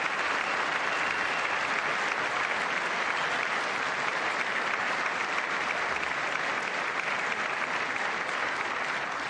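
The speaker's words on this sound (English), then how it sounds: "I wasn't sure if anybody even on this side was going to applaud for that." Sustained applause from a large audience in the chamber of Congress during the State of the Union address, a dense, steady clapping that fills the whole stretch at an even level with no speech over it.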